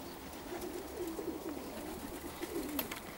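Permian maned pigeons coo softly in a dovecote, a low, rolling burble repeating in overlapping phrases against faint background rustle, with no talk.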